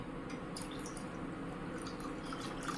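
Water poured into about one and a half bowls of curd to make buttermilk in a village kitchen, a faint, quiet trickle with small scattered drips and splashes and no talk.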